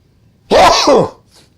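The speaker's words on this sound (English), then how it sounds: "Sorry, sneeze alert." A single loud, close sneeze, a sudden burst lasting about half a second.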